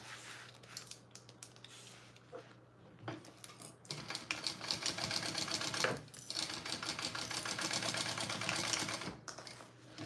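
A sewing machine bastes a strip onto the top of a handmade fabric bag, running in fast bursts with brief pauses and snips, close and fairly loud with no talk.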